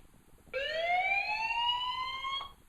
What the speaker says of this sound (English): There's even a siren.